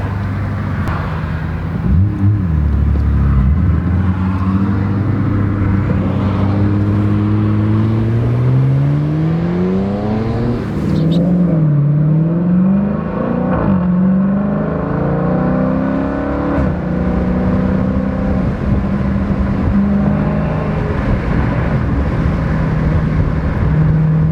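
A modified right-hand-drive 2019 Ford Mustang GT engine revving up and down repeatedly, loud and close, with rising and falling pitch sweeps settling into a steady idle toward the end.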